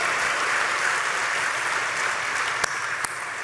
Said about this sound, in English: Let's have one more round of applause for all the winners there, guys, all the nominees as well.